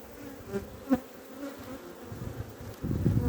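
Agitated honeybees hum and whine around an open split hive after frames were shaken, a close insect drone with passing buzzes that swells louder toward the end.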